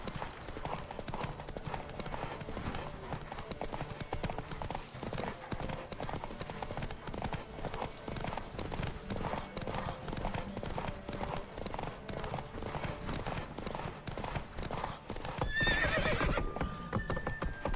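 Horse in The Witcher 3 galloping steadily, rapid rhythmic hoofbeats throughout at close range, with a sharp neigh near the end over game ambience.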